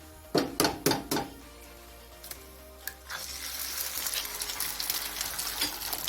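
An egg fries in a pan, starting with a few sharp cracks and clinks and then breaking into a steady close sizzle that carries on to the end, with no talking.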